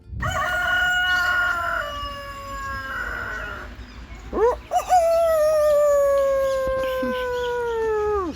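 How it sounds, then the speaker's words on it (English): Rooster at a petting zoo crowing in long drawn-out calls, one early and a louder one in the second half, mid-distance and clear with light outdoor background and no talk. "What can be more relaxing than looking at geese and some good old chicken?"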